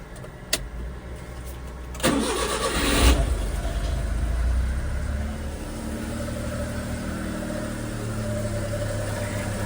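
A Honda Vamos kei van's engine cranks over about two seconds in and catches, settling into a steady low idle that carries on close by, with a faint click just before the start.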